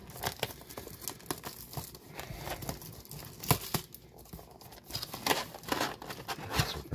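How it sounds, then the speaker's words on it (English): Crinkling plastic wrap and tearing cardboard as a Magic the Gathering Zendikar Rising booster box is ripped open, faint close rustles and snaps coming in irregular bursts, no talking. "let's open up some magic cards, people."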